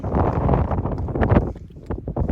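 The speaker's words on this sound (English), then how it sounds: "the wind is pretty strong as well when it" Loud, blustery wind buffeting the microphone in rough, rumbling gusts that rise and ease, with no voices.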